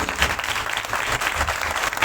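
A church congregation at a Pakistani convention claps loudly on the pastor's call, a brief, dense burst of applause that fills the space close and strong.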